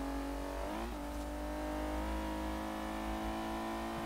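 Steady engine drone from a car in the racing game Forza Horizon 3, a low sustained hum with a brief rising rev near the start, then holding a constant cruising pitch throughout, close and fairly loud.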